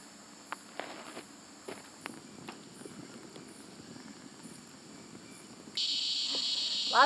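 A steady insect drone fills the background at a bush campsite with scattered taps and footsteps, then a loud buzzing cicada chorus swells in abruptly near the end at dusk.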